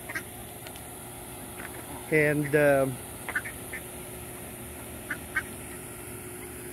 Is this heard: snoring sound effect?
no